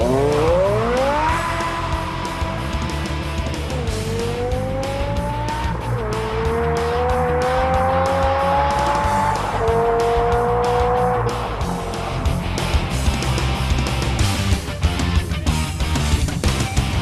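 A naturally aspirated 5.7-liter V10 race car, in an M6, screams loudly through a series of rising revs and upshifts with tire squeal, its engine note climbing and dropping repeatedly over a sustained pass.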